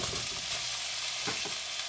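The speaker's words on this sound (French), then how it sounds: "Quand les oignons ont bruni un petit peu, ajoutez les légumes" Onions, bell peppers, carrots and turnips fry in a pan for a vegetarian couscous, giving a continuous crackling sizzle with a few soft stirring scrapes, close and steady.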